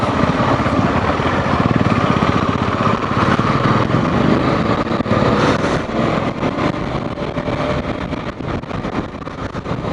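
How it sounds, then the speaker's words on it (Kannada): Royal Enfield Himalayan motorcycles ride through monsoon conditions, giving a loud, continuous engine rumble mixed with heavy wind and road noise and no speech. "ಬಾಯ್ಸ್ ಬರ್ತಾ ಇದ್ದಾರೆ ಹಿಮಾಲಯನ್ಸಲ್ಲಿ."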